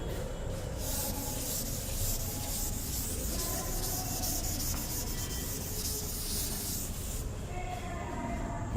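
Steady scrubbing of a board eraser wiping handwritten math from a classroom board, a continuous close rubbing hiss that runs without pause for several seconds, no talking.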